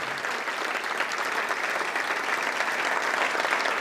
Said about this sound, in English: Let's have a round of applause for our premier sponsor